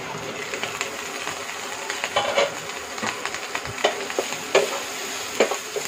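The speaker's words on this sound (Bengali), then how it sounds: "বেগুনটা আমার ভাজা হয়ে গেছে।" Eggplant being stirred and fried in a pan at home gives a steady sizzle with scattered scraping stirs and spatula knocks throughout, close and fairly loud, with no talking.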